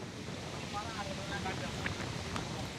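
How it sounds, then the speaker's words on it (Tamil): Strong wind gusting across an open spot at Thiruvakkarai in Villupuram, a steady rushing roar buffeting the microphone, loud and unbroken. "காற்று பயங்கரமாக அடிக்குது"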